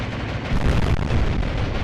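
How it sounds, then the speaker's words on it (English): Bombs bursting against a battleship in the naval strategy game Atlantic Fleet, a loud, dense roar of explosions rolling continuously for about two seconds with no voice over it. "Drop those bombs"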